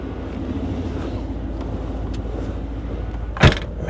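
Third-generation Camaro or Firebird, an 1987 Trans Am GTA or 1988 IROC Z28, driving on the road: a steady engine and road rumble runs throughout, with a brief louder whoosh near the end.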